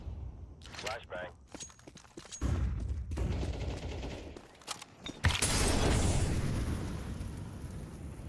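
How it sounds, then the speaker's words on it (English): Flashbang grenade detonating in a Counter-Strike 2 match, with sharp gunshot-like cracks early, then a loud sustained blast and ringing wash in the second half, mixed with footsteps and game noise, voices present. "Flashbang."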